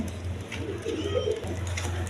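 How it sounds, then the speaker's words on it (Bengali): A pair of light-coloured shirazi pigeons coo in a low, rolling murmur close by, with soft faint chirps from other birds in the background. "এইখানে এক পেয়ার আপনার শার্ডিং কবুতর আছে আপনার লাইট কালার আর কি"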